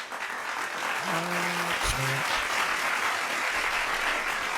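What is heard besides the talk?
applause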